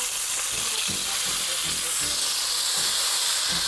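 Teal ducks frying in a covered pan, giving a steady close sizzle and hiss with faint stirring and clatter underneath.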